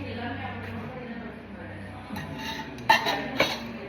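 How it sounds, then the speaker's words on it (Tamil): Eggs being beaten in a bowl for a Tamil street-style omelette, heard as soft scraping and a couple of sharp utensil clinks against the bowl under steady talking. "நம்ம இது இந்த முட்டை கலக்கிறோம்ல, இது வந்து நல்லா பீட் பண்ணணும்"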